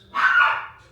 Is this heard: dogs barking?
yes